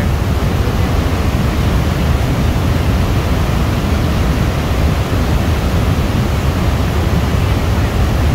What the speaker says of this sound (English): Look at this beauty of the waterfall,